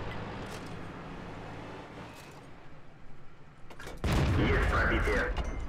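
Tank cannon fire from a T-22 sr medium tank in World of Tanks: subdued engine rumble and faint shots, then a loud, sustained blast near the end.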